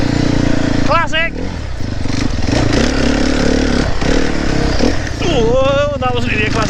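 A 300 four-stroke dirt bike revs hard while stuck in a rut in boggy ground, its engine whining up and down in loud bursts, with people talking and shouting over it throughout.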